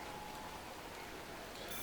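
Rain falls on a race track in the racing management game Motorsport Manager 24, heard as a soft, steady hiss of rainfall with no clear breaks and no voices.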